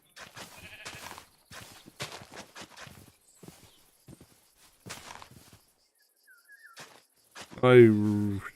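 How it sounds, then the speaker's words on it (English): Quiet clopping and shuffling steps lead up to a single loud Minecraft sheep bleat near the end, with faint game-like chirps in between. "Sheep."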